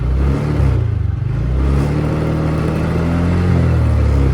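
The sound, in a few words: TVS Ntorq XT scooter engine revving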